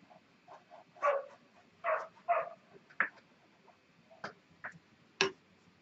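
Indoors during an acrylic painting session, a dog lets out a series of irregular, clipped barks and yips, some louder and some fainter, with brief pauses between them and no talking over them.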